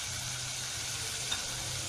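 Chicken frying in a pan with cumin and white vinegar, a steady, quiet sizzle with a low hum beneath and one faint tap.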